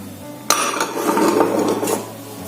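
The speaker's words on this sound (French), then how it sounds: "Je vais d'abord les mélanger." Sugar and lemon zest flavoured with mint are stirred together in a bowl, with a sharp clack at the start and then a steady scraping, clinking swish of a utensil against the dish, close and moderately loud, with no talk.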